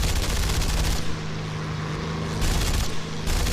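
Sustained aircraft machine gun fire in War Thunder, a dense continuous rattle of rapid shots with engine drone beneath, loud and close throughout with brief slight dips in intensity.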